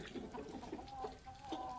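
Chickens cluck softly in short, repeated calls, close by and fairly quiet, with a few overlapping birds.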